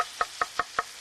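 Knife chopping coarsely through scallions on a cutting board: four crisp, evenly spaced taps about a fifth of a second apart, close and clear against a quiet room.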